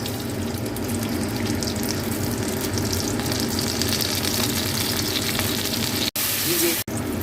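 Spices sizzle in hot ghee in a pan, a loud, even, hissing fry that runs continuously and is broken only by two brief dropouts near the end.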